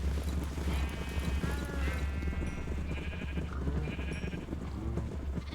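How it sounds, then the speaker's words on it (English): Sheep in a video game bleat a few times over a steady low rumble of background ambience, the calls moderately faint and spread across several seconds with no speech. "Thanks for nothing, sheep."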